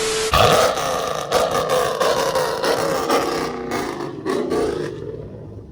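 A loud, close car engine, a 5.7 or V6, roars and revs with rising and falling growls, sustained over several seconds with no talking.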